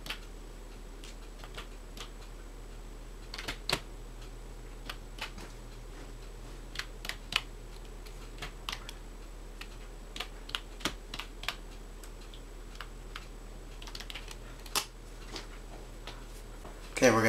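Computer keyboard typing as a Windows Vista product key is entered on a Dell OptiPlex setup, scattered quick key clicks in bursts with pauses, fairly close and moderate over a faint steady hum.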